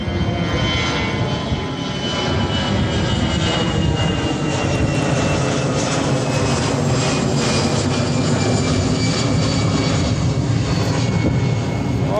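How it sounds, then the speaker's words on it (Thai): A fixed-wing airplane roars overhead above a canal used for fishing, a loud, sustained engine drone that stays steady and full for over twelve seconds with no talking. "เบิ้งเครื่องบินครับผม"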